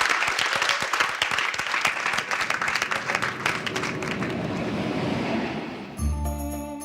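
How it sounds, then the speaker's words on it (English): Loud, dense applause from an audience cheering a model railway team's finished layout, steady for about six seconds before cutting off into a different, quieter sound. "Give them a round of applause, please."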